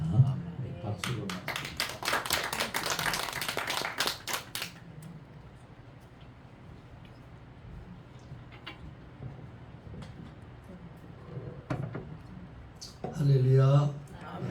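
Congregation in a church service clapping together, a burst of rapid applause for a few seconds that fades into a quiet room, followed by a voice speaking.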